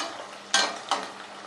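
Garlic sizzles in hot oil in a pan for a drumstick-leaf and sesame-flour curry, a steady close hiss broken by two louder bursts of stirring.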